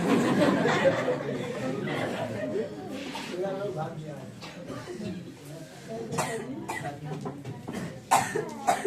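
Several coughs break out amid a busy room with overlapping voices and scattered chuckles, fairly close and loud.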